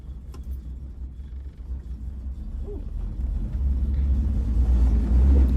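A 3rd gen Chevrolet Camaro with a small-block V8 and a manual five-speed swap idles with a deep, steady low rumble close by, building gradually louder toward the end.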